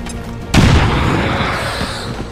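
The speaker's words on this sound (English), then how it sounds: "Throwing grenade!" A grenade detonates in XCOM 2, a single loud, close boom with a sharp onset followed by a rumbling, debris-filled decay that fades over about two seconds.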